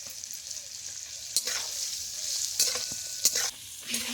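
Dried raw mango pieces are stirred in a pan with a soft sizzle, quiet scraping strokes of a spatula occurring a few times against a faint frying hiss, no talking.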